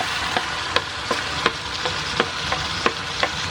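Meat and shrimp fry with spinach and garlic in a pan: a steady close sizzle broken by regular sharp knocks of a spatula stirring against the pan, with no talk.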